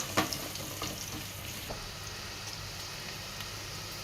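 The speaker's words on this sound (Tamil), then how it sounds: "கேரட் போட்டு ஒரு 2லேருந்து 3 நிமிஷம் நல்லா வதக்கி விட்டுக்கோங்க" Chopped carrots sauté in a hot pan for a garlic butter herb rice with vegetables, giving a steady close sizzle with a few light scraping stirs and no talking.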